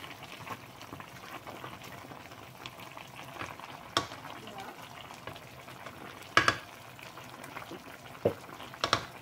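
Vegetables, including water spinach, go into a simmering pot of pork sinigang, a quiet bubbling and low sizzle with scattered soft stirring knocks and a few louder clanks toward the end.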